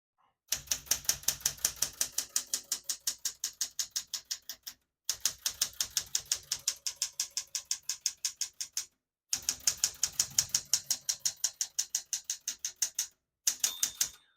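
Steady rapid clacking of a 1978 Smith-Corona Galaxie 12 manual portable typewriter in three long bursts separated by short pauses, crisp and close, ending with a brief final flurry.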